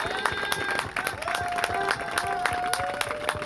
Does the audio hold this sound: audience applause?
yes